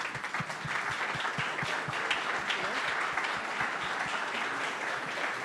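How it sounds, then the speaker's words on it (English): An audience at a startup demo day gives a round of applause to standing mentors, a dense, steady clatter of many hands clapping for several seconds. "would you mind standing so we can give you a round of applause?"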